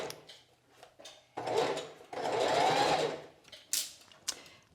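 A sewing machine stitches a curved seam in fabric, running in short stop-and-start bursts of rapid whirring with brief pauses and small clicks between them, close and clear, with no talking.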